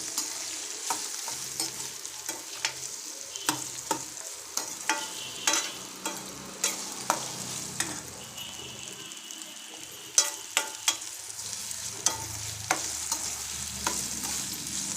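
Two pre-boiled raw bananas fry in a pan, with a steady sizzle and crackle running throughout and frequent sharp ticks and scrapes as the pieces are stirred.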